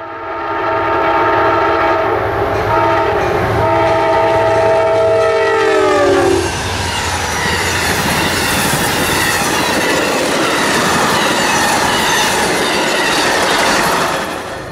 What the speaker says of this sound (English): to catch Amtrak PO97, wasting no time making his way to his station stop in Savannah